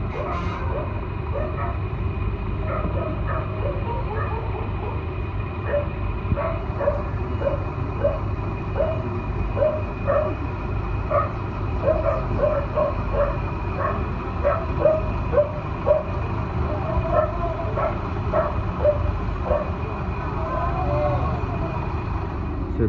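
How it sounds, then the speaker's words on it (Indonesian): Repeated short dog barks and yips ring out in a steady run over loud, constant bus engine rumble at an Indonesian bus stop, with chatter in the background. "Suara anjing."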